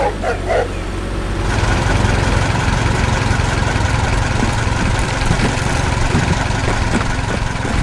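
A blue truck loaded full of harvested apples runs with a steady, loud engine drone that holds without pause from start to finish, the rumble continuous and close throughout.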